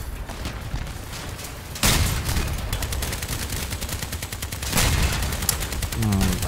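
Rapid, continuous gunfire rattles through a video game firefight, dense volleys with two heavier bursts standing out, loud and unbroken for several seconds.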